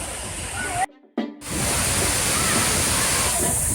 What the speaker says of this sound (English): this is our third Costa Rican waterfall